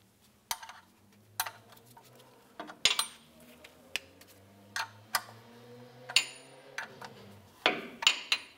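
Metallic clicks and clanks from a torque wrench snugging an oil drain plug with a new gasket to 12 foot-pounds on a 1998-2002 Lincoln Navigator, a dozen sharp ticks spaced irregularly, close and fairly quiet.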